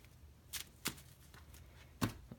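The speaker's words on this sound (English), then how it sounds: "if I can shuffle the deck correctly" Yu-Gi-Oh! cards being shuffled by hand, heard as a few sharp, separate riffling bursts spaced irregularly, close and fairly quiet with no talking.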